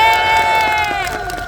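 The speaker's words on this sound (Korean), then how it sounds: "큰 박수 부탁드리겠습니다." An outdoor crowd at a rally in Gwanghwamun cheers loudly, with a long, sustained cry riding above the crowd's noise and some scattered clapping.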